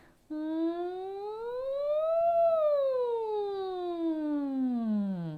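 A single soft voice imitates a siren as a vocal relaxation exercise, a smooth hum that glides up in pitch and then slowly slides back down.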